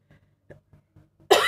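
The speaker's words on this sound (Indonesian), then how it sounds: "Maaf ya, batuk" A single sharp, loud cough bursts out near the end, after a few faint murmurs from a teacher explaining an infinite geometric series sum.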